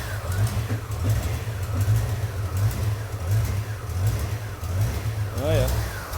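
A C4 Corvette engine idles on its own with the MAF sensor disconnected, a steady low rumble with a slightly uneven pulse throughout, close to the microphone.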